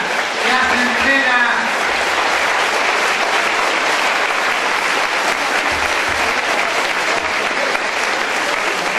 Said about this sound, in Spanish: Vamos a brindarle un fuerte aplauso al senador Héctor Yunes Landa